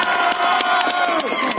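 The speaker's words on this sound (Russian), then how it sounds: "Аплодисменты Деду Василю." Spectators at an outdoor Maslenitsa stilt-walking contest clap for Ded Vasil, irregular sharp claps mixed with crowd voices and cheering in a short burst.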